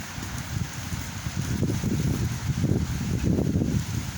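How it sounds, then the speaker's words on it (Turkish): Strong wind buffets the microphone in low, rumbling gusts, continuous and fairly loud, with no speech. "Aşırı derecede rüzgar esiyor."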